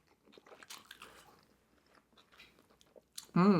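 A Five Guys double-patty cheeseburger and Cajun fries being bitten and chewed close to the mic: soft, scattered wet chewing and crunches at low level, ending in a sudden loud burst.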